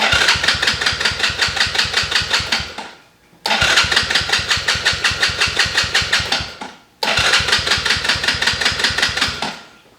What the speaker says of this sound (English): Gonna hit the kill switch button, and then we're gonna hit the starter.